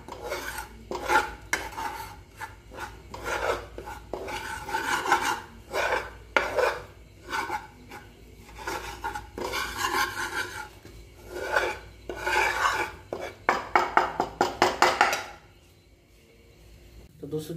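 Wheat flour being stirred and roasted in hot ghee, a steady rasping scrape of a spoon against the pan with repeated strokes that quicken toward the end, then silence at the close.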